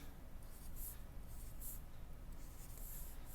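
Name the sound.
writing out words while drawing in Toon Boom Harmony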